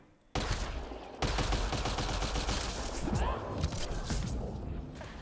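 Sniper fire in the video game Mass Effect: Andromeda: sharp shots burst in suddenly, then a sustained barrage of gunfire and impacts continues loudly to the end.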